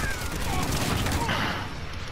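Dense, rapid gunfire from the Call of Duty: Modern Warfare video game, a steady barrage of overlapping shots that stays loud throughout the brief stretch.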